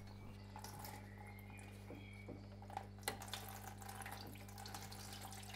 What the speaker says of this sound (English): let's get the coolant dropped and the radiator cleaned out